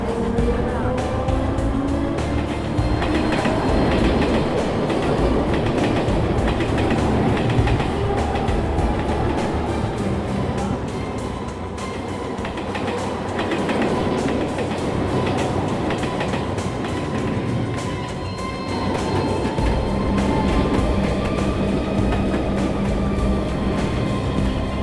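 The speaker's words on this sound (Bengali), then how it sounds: "1 নম্বর প্ল্যাটফর্মে থ্রু ট্রেন আসতে চলেছে" A through train arrives at a railway station platform with a continuous loud rumble and rhythmic clatter of wheels. The noise is close and sustained throughout, with faint voices mixed in.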